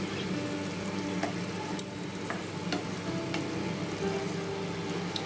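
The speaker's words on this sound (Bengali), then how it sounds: "আর আলুগুলোকে একটু গলিয়ে দিচ্ছি যাতে মাখা মাখা হয়ে যায়।" Potatoes in dumur alu dalna, a Bengali fig and potato curry, stirred and mashed in a pan, with steady close sizzling and occasional scraping clicks of a spoon throughout.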